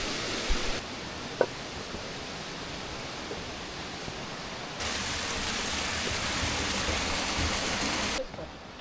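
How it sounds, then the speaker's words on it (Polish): An artificial stream flows beside a hiking trail in Rabaçal, Madeira, a steady close rush of water whose loudness shifts partway through, with no voices. "tutaj taki kolejny sztuczny strumyk"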